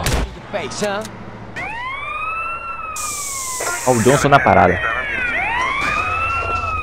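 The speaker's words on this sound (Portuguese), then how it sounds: "Uma viatura e uma moto." A police car siren in the video game GTA San Andreas wails in repeated rising and falling sweeps, loud and close, with a burst of noise and choppy game sounds in the middle while someone talks over it.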